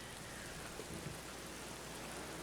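Steady rain hisses softly throughout a dark mystery video game scene. The faint, continuous wash is broken only by a few slight rumbles.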